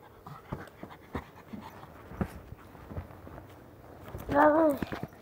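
A dog pants in quick rhythmic breaths while running alongside someone, with footsteps on the ground and a brief whine or whimper near the end.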